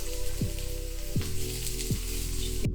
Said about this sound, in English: We're going to add in our mushrooms.